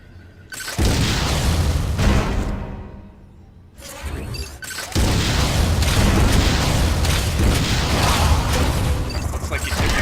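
Missile fired in the Metroid Other M video game, a loud booming blast with crackling debris, followed by a brief lull and then a second sustained roaring burst of explosive noise.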